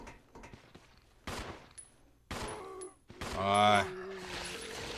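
Gunfire in the video game Resident Evil 0: several sharp shots and short rapid bursts land in separate clusters, with a louder burst near the end over faint game ambience.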